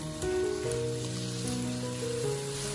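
Pork belly with sliced ginger sizzling in a hot wok: a steady, crackling frying hiss that runs throughout, under soft background music.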